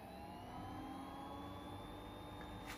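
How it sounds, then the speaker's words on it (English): A Boley F1 lathe motor spins at high speed on three-phase power from a variable frequency drive, giving a steady, continuous whine and hum with a rising tonal pitch, close and constant throughout. "So this motor is turning about 500 RPMs now, so I'm going to crank it up."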